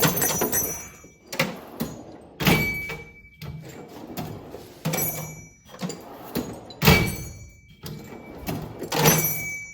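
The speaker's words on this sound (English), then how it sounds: "that's harder than I ever need to rip my drawer open" A metal tool chest drawer is yanked open and shut repeatedly, giving a series of loud sliding clatters and thunks with brief quieter gaps, close to the mic.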